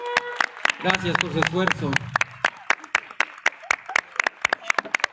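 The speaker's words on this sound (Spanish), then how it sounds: "Fuerte aplauso." Audience applause at a Sephardic heritage event in Mexico, scattered sharp claps that briefly sit under someone speaking Spanish and then continue on their own.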